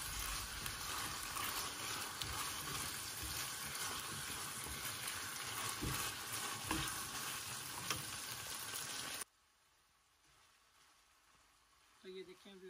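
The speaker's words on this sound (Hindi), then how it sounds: "तो 10 मिनट के लिए मैं इसको फ्राई करूँगी इसके अंदर, घी के अंदर" Something frying in ghee in a pan for pasta bolognese, a steady broad sizzle for about nine seconds that then cuts off abruptly, leaving near silence and a faint clatter at the end; speech may sound faintly under it.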